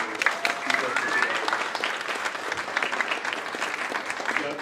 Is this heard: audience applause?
yes